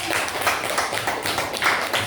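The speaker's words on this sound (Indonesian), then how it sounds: "tepuk tangan dulu dong untuk kelompok" A classroom gives steady applause for a student group, a continuous wash of many hands clapping together for about two seconds with no break.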